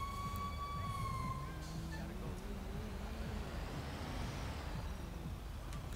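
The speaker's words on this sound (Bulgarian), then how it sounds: "А, ето, ето, ето. Пожарната." A fire engine siren wails in rising and falling sweeps over a dense rumble of street traffic, loudest at the start and then fading as it moves off.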